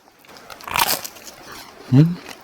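A single crisp crunch of biting into crusty homemade no-knead ciabatta filled with cheese and apple, close and fairly loud, followed by a brief chewing sound.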